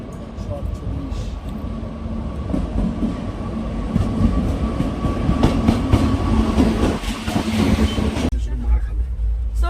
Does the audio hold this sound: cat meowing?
no